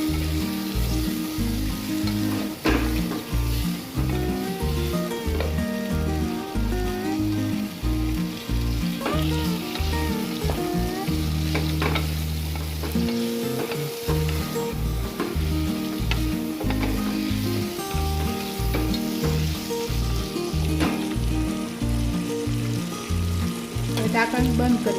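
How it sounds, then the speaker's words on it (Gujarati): Cluster beans (guvar) get stirred and mixed in a frying pan for a guvar dhokli curry, with a loud constant sizzle and repeated spatula scrapes, running close throughout without speech. "ત્યારબાદ જે ગવાર લીધો છે તે એડ કરી દઈશું, બરાબર મિક્સ કરી લઈશું"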